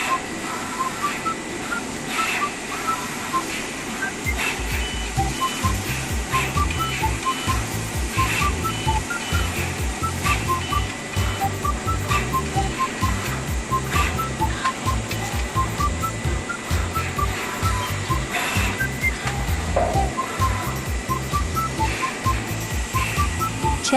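A CHM-861 pick and place machine mounts components onto PCBs on a factory production line, giving a steady mechanical whir with a dense, rapid ticking rhythm that runs without pause.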